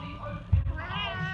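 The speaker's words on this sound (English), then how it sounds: "look at this kitty" A cat meows close by in a shop, one drawn-out mew rising over a low hum and faint background noise.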